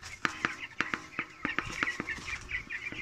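Broiler chickens about 45 days old cluck and chirp in a farm pen, a close, busy series of short irregular calls with soft rustling underneath.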